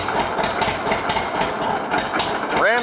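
Boat engine idling steadily at low throttle, a close, continuous rumble with a faint rhythmic knock, a voice breaking in briefly near the end.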